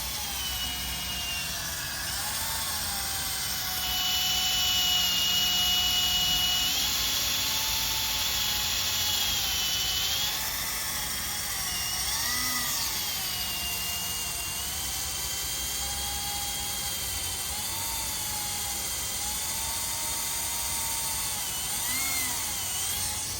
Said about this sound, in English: he's going to drill this top plate here, and or drill through the whole thing